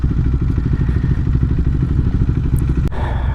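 A motorcycle rides ahead on the road, its steady pulsing engine rumble close and continuous, with a brief thump near the end.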